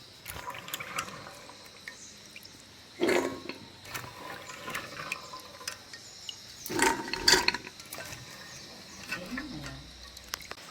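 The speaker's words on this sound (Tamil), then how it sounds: "நான் கடலையெல்லாம் கழுவி எடுத்துட்டேன்" Soaked chickpeas being rinsed in water in a pot: two short bursts of sloshing and splashing stand out against quiet handling noises, with faint background sounds between them.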